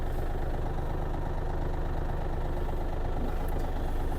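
A Yanmar AF-330 mini tractor engine runs at a steady idle with a dense, even diesel chug. It sounds close and constant throughout, with no voices.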